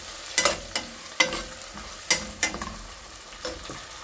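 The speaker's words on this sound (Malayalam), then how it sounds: "ഒരു കഷ്ണം ഇഞ്ചി ചതച്ചു വെച്ചിട്ടുണ്ട്, അത് ചേർക്കുന്നുണ്ട്." Crushed ginger and garlic fry in a pan while being stirred, giving a few sharp scraping clatters over a low steady sizzle, close and moderately loud, with no talk.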